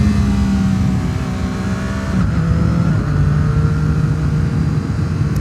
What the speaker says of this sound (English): So for me to go from third to second, I have to pull in the clutch, blip the throttle,